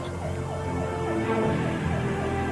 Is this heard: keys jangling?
no